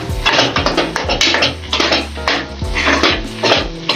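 A spoon stirs a cooked dish in a metal pot after mustard oil goes in, giving loud, close scraping and clinking in a brisk, repeated rhythm with no talk.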